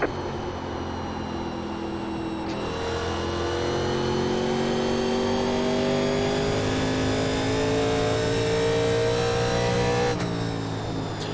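1987 NASCAR stock cars race at Iowa Speedway in iRacing, their engines droning loudly and steadily. The pitch climbs slowly as they accelerate down a straight, with gear-shift breaks near the start and the end.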